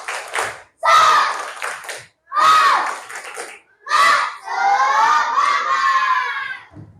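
A classroom of schoolchildren chants a spirit clapping cheer together, loud and close, shouting in bursts with rhythmic claps, ending in a long sustained group shout.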